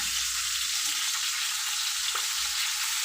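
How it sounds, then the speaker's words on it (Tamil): Fish caught on a fishing line frying in a pan on a stove, giving a steady, close, continuous sizzle and crackle with no talking. "அடுப்பில் வச்சுட்டோம், கொஞ்சம் வேகட்டும் உறவுகளே"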